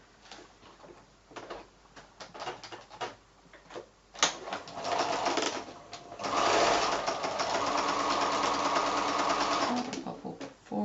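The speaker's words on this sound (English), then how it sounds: "So I'll just go to the machine now and just quickly sew these." A sewing machine stitches quilt block pieces along a drawn diagonal line, starting with some handling noises and then running in a steady, close, continuous whir for several seconds.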